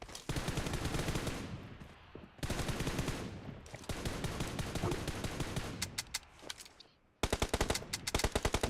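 Rapid automatic gunfire in the mobile battle royale game PUBG Mobile, dense sustained bursts with short gaps and a final sharp volley, loud and close.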